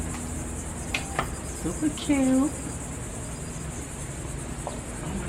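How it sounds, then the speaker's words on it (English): Cicadas buzz at a marina as a steady, high-pitched insect drone filling the background, with a brief chirping call, a few soft knocks and a short spoken comment over it. "Oh my God, you hear the cicadas?"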